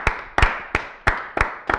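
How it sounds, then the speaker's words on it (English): Six sharp, evenly spaced claps ring out close and clear with no voices, applause for a Pittsburgh Pirates baseball prospect and JUCO champion. "let's clap it up for him"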